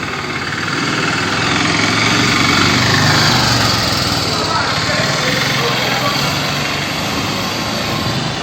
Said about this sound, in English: here's a tuk-tuk